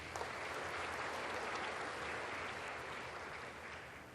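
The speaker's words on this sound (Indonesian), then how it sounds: "Tepuk tangan untuk beliau." A large audience at a university graduation ceremony claps for an honoured speaker, a dense, even wash of applause that holds steady and fades slightly toward the end, with no voices over it.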